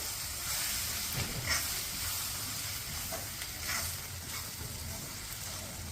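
Semolina for upma stirred in a hot pan with coriander powder and a little red chili, a steady soft sizzle broken by a few scraping strokes of the spoon, moderately quiet, with no talking.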